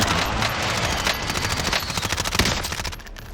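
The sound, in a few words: MP5 submachine gun firing in Call of Duty: Warzone video game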